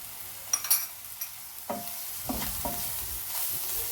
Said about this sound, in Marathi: सगळं मीठ एकसारखं करून ढवळून घेऊया।